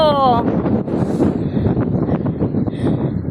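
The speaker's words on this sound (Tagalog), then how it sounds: "Oh, ang lakas ng hangin." Strong wind at a hilltop viewpoint buffets the microphone with a rough, steady roar, and a voice speaks briefly over it.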